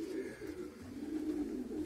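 Racing pigeons coo steadily in a loft, a soft, continuous low burbling that stays close and even for the whole stretch.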